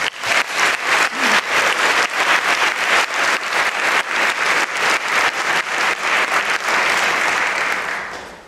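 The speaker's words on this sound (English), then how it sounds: "I'd like to have you join me in giving our presenters a thank you and a round of applause" Audience applauding presenters at the close of a Teach 2.0 keynote event, a dense, steady round of clapping that holds loud throughout and tapers slightly at the end.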